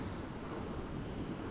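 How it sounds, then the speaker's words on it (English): Ocean waves wash onto the beach at Castara, Tobago, at sunset, making a continuous close rushing roar of surf mixed with wind buffeting the microphone. "this massive wave literally hit my face and my bag"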